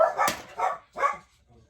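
Household dogs bark three times in an uneven rhythm, loud and close, with a brief sharp knock near the start and a faint murmur trailing at the end.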